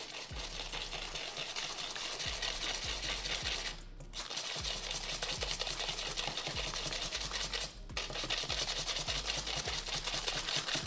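Melted butter, sugar and eggs for white chocolate toffee blondies are stirred in a bowl, giving a steady scraping and whisking rhythm that pauses briefly twice, with no voices.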